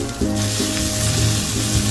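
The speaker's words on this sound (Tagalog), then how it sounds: "isama na natin sa gisa itong maling" Luncheon meat sautés in a hot pan with a loud, dense sizzle that jumps up as it hits the oil, crackling steadily up close for a couple of seconds.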